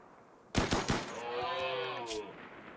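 Gunfire from an excellent-quality gun in RimWorld, aimed at a wounded caribou: a few sharp separate shots up front, then a lingering harmonic whine under faint voice-like sound.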